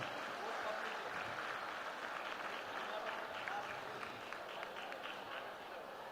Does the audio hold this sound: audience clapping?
yes